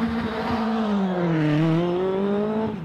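A race car climbs the hill at the Prescott hillclimb in a continuous, fairly loud engine howl whose pitch dips and then rises again through the gear changes.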